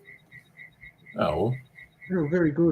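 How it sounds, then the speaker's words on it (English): A frog outside a window croaks in a steady, evenly spaced series of soft calls, with people talking over it at a moderate volume now and then. "sounds like there's a frog outside the window"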